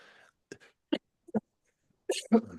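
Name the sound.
cough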